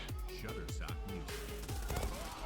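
Rapid automatic gunfire from the online shooter Zula during a fast team deathmatch on the Çanakkale map, dense bursts of shots crackling continuously, with a voice talking underneath.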